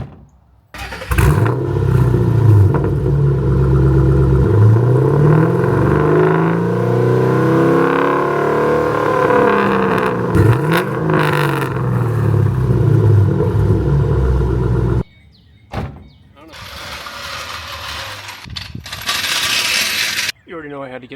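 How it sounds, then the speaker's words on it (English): A 2005 Ford Mustang GT 3V with an intermittent stalling fault starts up close and loud, then is revved in rising and falling sweeps over a rumbling idle. It cuts out abruptly, and a second burst of revving follows. "So I'm gonna start it, give it a few revs"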